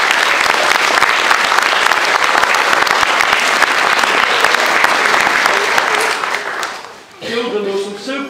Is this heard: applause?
yes